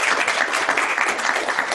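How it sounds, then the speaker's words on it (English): An audience at a panel discussion on Southwest drought gives a loud, close, sustained round of applause, dense and even throughout the short burst. "So one more round of applause."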